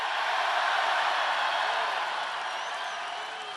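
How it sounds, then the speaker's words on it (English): A large crowd at a Trump 'Keep America Great' rally in Charleston, South Carolina cheers and applauds in a steady, broad roar that fades slightly toward the end. "It's a phenomenal crowd"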